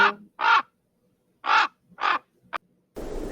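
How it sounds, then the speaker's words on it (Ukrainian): Several loud hooded crow caws in separate bursts, close by, with short silences between them, then a brief rush of noise at the end. "Ворони."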